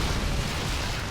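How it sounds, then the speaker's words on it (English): Mutalisks trade fire in a StarCraft II battle, a dense, continuous wash of overlapping blasts and bursts that stays loud and steady throughout this short moment of video game combat. "The mutas are just sitting there shooting at each other"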